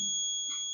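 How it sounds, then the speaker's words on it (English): A steady high-pitched electronic buzzer tone from a laser security alarm sounds continuously, with a brief faint rustle partway through. "LED will lit up, and buzzer produce the sound."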